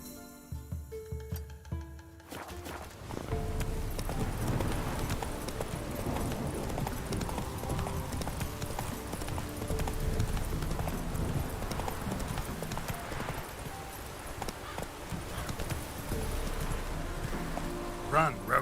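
Horse hooves galloping steadily in The Witcher 3, a continuous rhythmic clip-clop that starts after a short quiet stretch and carries on under game sounds, with a brief voice heard.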